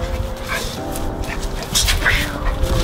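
A pet dog whimpering and yipping excitedly in greeting, heard close up in short high cries beneath a person talking.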